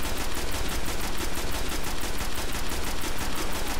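Continuous dense weapon fire in the shooter game Destiny, a loud unbroken stream of rapid shots with a steady pulsing rhythm throughout and no speech.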